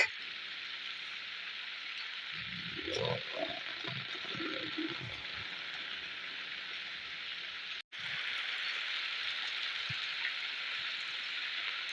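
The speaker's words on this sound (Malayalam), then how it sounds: "നല്ല മഴ" Heavy rain hisses steadily throughout, with a brief low rumble of indistinct activity early on beneath the downpour.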